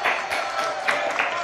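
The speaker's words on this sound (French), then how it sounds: "Applaudissements pour Zaya." Studio audience applause for a guest on a French talk show, a brief steady wash of clapping with a voice speaking over it.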